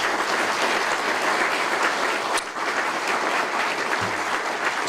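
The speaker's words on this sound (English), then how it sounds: "Please give them another round of applause." Sustained, dense applause from an audience at a city police and firefighter of the year award ceremony fills the room evenly, loud and continuous throughout.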